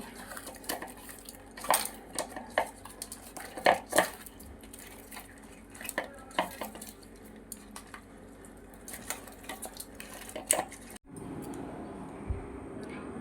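Turmeric and salt are mixed into ingredients for taro leaf greens with fish head in a pot, with metal spoon clinks and scrapes in irregular bursts, close and moderately loud, ending in a low steady hiss.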